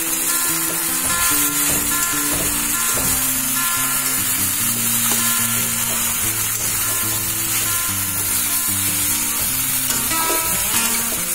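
Food frying and sizzling over a fire while macaroni is cooked, a steady loud hiss that runs throughout with stirring and clattering pan noises layered over it and no talking.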